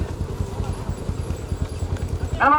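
Bulls pulling a cart in a bullock race in Pudukkottai district pound along in quick, regular hoofbeats close by, ending in a brief loud call or whistle.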